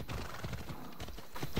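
Galloping hoofbeats of a horse in the Assassin's Creed Odyssey video game, a fast continuous drumming of hooves, close and fairly loud, over a brief stretch.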